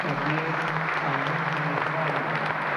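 A church congregation at a fiftieth-anniversary celebration applauds steadily, the clapping soft and somewhat distant, with a faint low hum beneath it.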